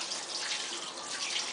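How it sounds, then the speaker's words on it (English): Running tap water streams steadily into a kitchen sink as hands are rinsed under it, a brief close hiss of flowing water with no talking. "Let me just rinse my hands off here."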